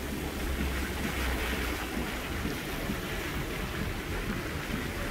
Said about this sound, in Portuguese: Água invadindo a Nuno de Assis.